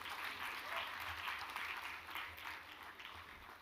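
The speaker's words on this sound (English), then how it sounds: "Guys, give them a round of applause" Sustained applause from a crowd at a university commerce school convocation for graduates as names are read, steady and fairly distant, fading slightly toward the end.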